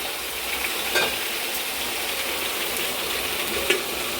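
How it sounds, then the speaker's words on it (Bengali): Pointed gourd frying in a pan while being stirred, a soft steady sizzle with a couple of brief scraping clicks from stirring, fairly quiet and close, no voices. "এই যে পটলটা ভাজতে দিয়ে দিলাম একটু নেড়ে চেড়ে নেব"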